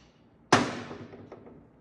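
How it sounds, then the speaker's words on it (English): A hammer tapping the yoke off a 1949 Willys CJ3A Jeep differential: a single sharp metallic strike rings out and decays, followed by a couple of fainter taps. "I'm going to take a hammer and tap the yoke off."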